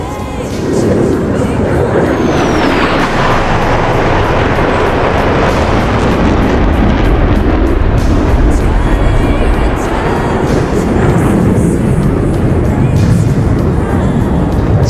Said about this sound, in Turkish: Sanal Sol Türk son manevrasıyla kanat sallayarak sol tarafınızdan geliyor